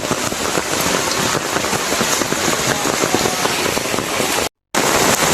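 Torrential rain falls in a village beside a mosque water point, a loud, unbroken wash of drumming drops with a brief dropout near the end and no voices.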